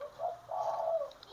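Zebra dove (perkutut) cooing in two soft, rolling phrases, the second longer and steadier, with a faint chirp near the end; no voices.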